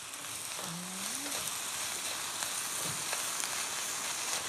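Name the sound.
stir-frying eggplant and meat with rice flour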